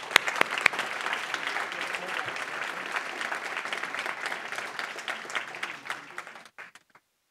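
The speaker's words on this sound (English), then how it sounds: "Can we have a round of applause again for all our speakers?" An audience at a debate about cash gives the speakers a round of applause. Dense, even clapping runs for several seconds with a few sharp claps at the start, then thins out and stops.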